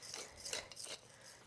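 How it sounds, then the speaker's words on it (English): A pepper grinder turning peppercorns with a steady, dry rasping crunch that rises and falls in a few short twists, quiet and close. "then you just got a minute of me grinding pepper"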